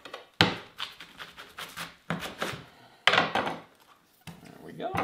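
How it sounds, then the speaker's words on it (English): A sharp knife slicing through a cabbage on a cutting board for sauerkraut: a series of crisp crunchy cuts and woody thunks against the board, close and loud, coming in bursts separated by short pauses. "So with a nice sharp knife, cut her in half."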